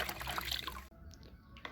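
Seven litres of water being mixed with an ash infusion for a tomato fertilizer, a short stretch of swishing, trickling liquid that drops away into quieter dribbles partway through.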